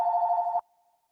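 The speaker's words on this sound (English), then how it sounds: "my phone ringing" A phone rings once in a steady electronic trill, close and clear, then cuts off, leaving a faint fading tone and silence.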